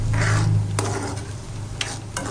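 Onions and tomatoes sizzle in a pan while cooking for mushroom masala: a close, continuous hiss broken by a few brief stirring scrapes.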